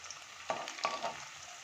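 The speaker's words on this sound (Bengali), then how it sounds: "এরকম পজিশানে দিয়ে তারপরে ভাজতে হবে" Battered cauliflower pakoras made with semolina, cornflour and rice flour fry in oil over medium heat, giving a soft, steady sizzle with a couple of brief louder crackles and stirring sounds.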